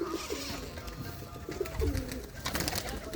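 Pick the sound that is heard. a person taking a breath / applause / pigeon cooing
pigeon cooing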